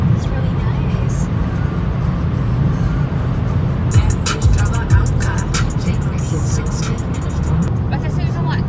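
A car cruises at speed with steady engine and road rumble heard from inside the cabin, while passengers talk and laugh over it.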